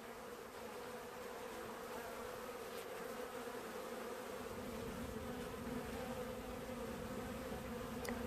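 A honeybee swarm hums in a hive, a continuous faint low drone of many wings that thickens and grows slightly fuller partway through, with no voices.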